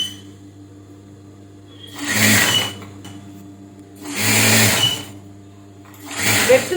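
A sewing machine runs in three separate bursts of steady stitching on a child's petticoat, with a low motor hum between each run.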